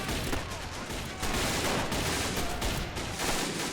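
Dense, continuous MG42 machine-gun fire in a WW2 fort-siege battle game, steady and loud throughout with overlapping bursts from more than one gun and no pauses.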